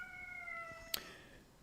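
A house cat gives a single faint, drawn-out meow in a quiet room, followed by a sharp click.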